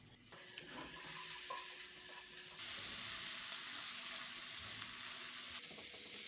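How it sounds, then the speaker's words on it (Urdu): Ginger garlic paste frying in two tablespoons of oil in a karahi wok, a dense, steady hiss of sizzling that grows louder partway through, close and without talk. "کڑھائی میں 2 ٹیبل سپون آئل ڈال کر ادرک لہسن کا پیسٹ ڈال لیں"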